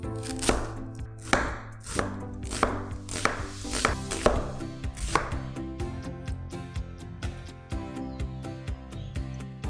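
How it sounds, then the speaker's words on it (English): A knife chops steadily on a cutting board, a series of close, crisp strikes slicing through a white onion, with background music underneath. "Slice 1 white onion"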